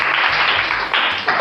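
An audience applauds, giving a short burst of dense, steady clapping that is fairly loud and close.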